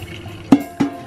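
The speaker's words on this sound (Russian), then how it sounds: "И сливаем теперь в дуршлаг." Water from rinsed long Korean glass noodles for chapchae drains into a colander in two short, close splashes about a quarter second apart, with no talk.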